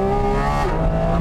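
A Porsche 718 Cayman GT4 RS engine revs hard on a race track, its high-pitched rising wail shifting pitch partway through a brief, loud, close burst.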